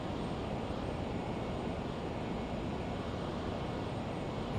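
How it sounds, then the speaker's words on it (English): Jet engines of a Flysimware LearJet 35A in a flight simulator give a steady, dense roar with a faint high whine, holding an even level throughout with no voices. "I'm gonna try decreasing our descent speed and decreasing the throttle at the same time, see how smoothly that goes."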